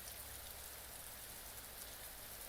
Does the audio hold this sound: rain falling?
yes